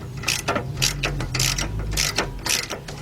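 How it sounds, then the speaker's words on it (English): A wrench works a bolt loose on the rear brake of a 2007 Chevy Tahoe, giving repeated close metallic ratcheting clicks in short bursts, with no talking. "And go ahead and take that bolt out."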